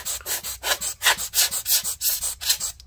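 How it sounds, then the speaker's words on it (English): Rhythmic, close brush strokes sweeping dust off the logic board of a 13-inch 2019 MacBook Pro A2159, about ten even back-and-forth scrubs over three seconds with no talking. "I'm just gonna brush off the dust to loosen it"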